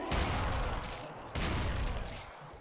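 Rapid continuous gunfire in a Doom-style shooter aimed at a chaingunner, loud dense bursts with a short break in the middle.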